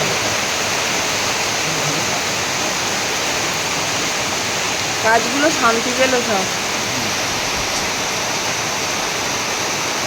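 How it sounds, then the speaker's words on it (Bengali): Heavy rain pours down steadily, a dense, even roar close by that spatters onto a table, with a person talking briefly over it midway. "ও যা জমজম করে বৃষ্টি হচ্ছে না।"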